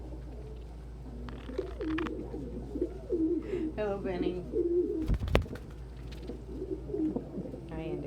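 Pigeons cooing repeatedly at a breakfast bird feeding, soft throaty coos rising and falling through the clip, with a brief flutter and a voice speaking nearby.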